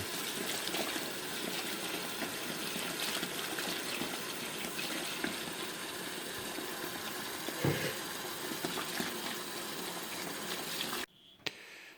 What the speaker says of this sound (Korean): 자 이제 국화를 씻고 있습니다. 깨끗한 물에 한세번 정도 씻는다고 합니다.